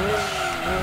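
Tires squeal continuously as a car brakes hard and skids in Gran Turismo 2, a loud, steady whine over engine rumble that lasts the whole short moment.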